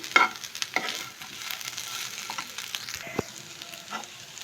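Potatoes frying in a pan with chili powder stirred in, a steady soft sizzle with occasional scraping clicks of stirring, moderately close and alone without talk.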